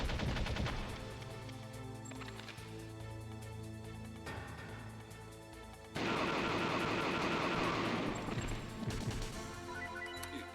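Gunfire in the Metal Gear Solid video game, rapid bursts of loud shots and impacts layered over game music and effects, with a sharp surge of heavier firing midway through.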